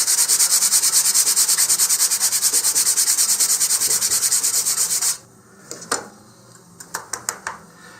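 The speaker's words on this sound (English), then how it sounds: "this is going to sand off really, really quickly" Model rocket sealer is rubbed down with 150 grit sandpaper in fast, even back-and-forth rasping strokes. The scraping stops abruptly, leaving a few light taps and knocks.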